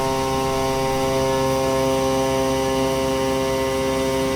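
A milling machine cuts a fixture plate with a half-inch standard end mill on a light finishing profile pass, a loud, steady, unbroken tonal hum and whine with no talk over it.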